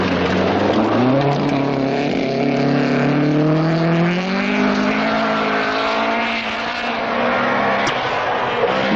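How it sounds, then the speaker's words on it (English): Datsun rally car engine at racing speed, heard as a loud continuous revving drone whose pitch climbs and settles repeatedly through gear changes, filling the whole stretch with no pause. "Despite severe front-wheel wobble on the Datsun, Andy Dawson is up to 5th place."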